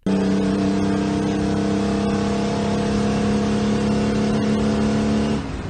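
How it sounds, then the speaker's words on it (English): A Detroit Diesel two-stroke engine runs loud and steady at full load with a deep, throbbing hum, then drops off abruptly near the end. "if you've ever stood next to a Detroit diesel two-stroke running at full load"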